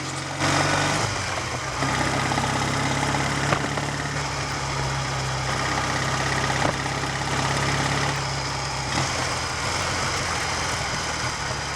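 A Triumph Tiger 100 motorcycle idles with the choke slide closed, its engine hunting in a steady, close, uneven throb that rises and falls slightly, with no voices over it.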